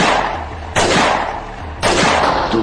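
Two loud, close gunshot-like blasts about a second apart, each a sharp burst that decays into a lingering rumble.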